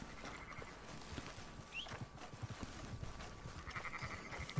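Sheep in Red Dead Redemption 2 give a couple of faint bleats over a steady outdoor game ambience with soft hoof-like thuds, no voices.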